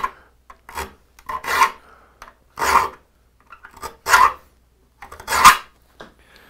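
A blade being sharpened by hand, with slow, separate rasping strokes, about five main scrapes spaced a second or so apart with softer touches between, close and alone.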